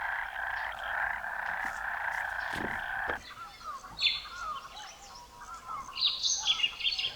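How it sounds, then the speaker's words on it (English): Frogs croaking in a nature recording played back through a Roland SP404 sampler: a steady, fairly loud chorus of croaks at first, then a busier, more scattered mix of croaks and chirpy calls with no talking. "Frogs, of course."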